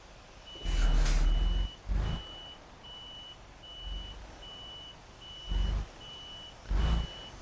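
A truck in the Euro Truck Simulator 2 video game backs up, its reversing alarm giving a steady, evenly spaced train of high beeps, broken by several loud, broad hissing bursts that rise and cut off abruptly. No one speaks.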